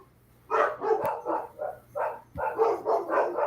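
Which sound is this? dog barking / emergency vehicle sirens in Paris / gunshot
dog barking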